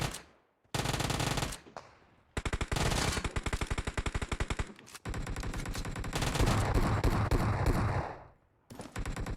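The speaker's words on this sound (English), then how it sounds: "there's the guy shooting him" Automatic gunfire in a shooter video game, loud close bursts of rapid machine-gun fire separated by short silences, one long sustained burst in the middle, no talking.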